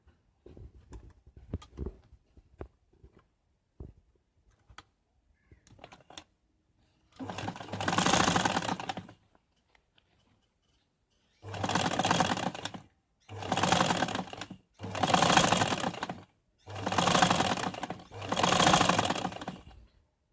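Sewing machine stitching the collar of a ladies suit: after a few faint handling clicks, six separate bursts of rapid whirring stitching, each one or two seconds long with brief pauses between, close and clear.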